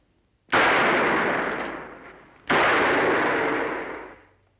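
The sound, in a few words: 45 revolver shots fired into a hay bale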